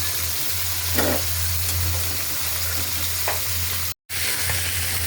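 Fish with spices and taro stolons being stir-fried in a pan, a steady close sizzle with a low hum beneath and a few brief scraping stirs, briefly cut out near the end, no talk.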